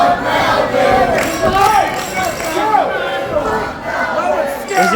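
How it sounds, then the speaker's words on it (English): Loud wrestling crowd noise at a live event, voices shouting and chanting in rising, wavering calls close by, with chatter mixed in throughout. "is the crowd chanting they want Melvin?"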